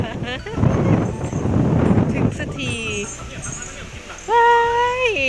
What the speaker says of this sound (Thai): ฝนไล่นะคะ ลมก็แรงนะคะ